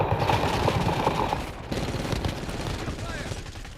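Rapid automatic gunfire rattles in dense, loud, close bursts during a Warzone video game match, with voices faintly mixed underneath.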